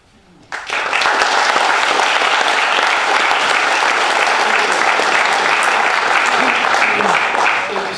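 An audience bursts into loud, sustained applause that starts abruptly and continues at full strength.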